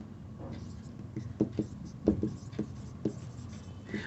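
Chalk or a marker writes on a board in a classroom, giving soft irregular taps and short strokes at close range against a quiet room.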